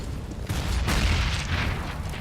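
A grenade explodes in a Counter-Strike match on the Cobblestone map, a deep, muffled boom with a rumbling low-end swell that fills the short span and fades slightly toward the end.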